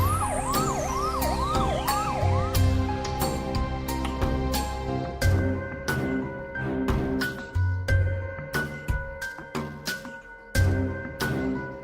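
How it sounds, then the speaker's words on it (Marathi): An ambulance siren wails and sweeps up and down in the opening seconds, then gives way to loud, repeated sharp dramatic hits and booming accents. The piece has a tense, staged feel. "ऍम्ब्युलन्स आली"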